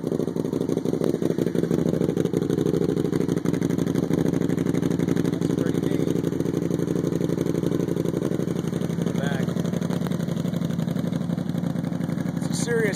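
Pearl white Can-Am Spyder SE5 custom three-wheeler engine running steadily at idle, loud and close, with a constant throbbing drone throughout and faint talk in the background.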